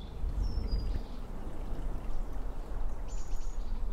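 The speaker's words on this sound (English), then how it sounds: "You can hear the gentle river that I recorded last time." A gentle river flows continuously with a soft, even rushing, while faint bird chirps drift in from above.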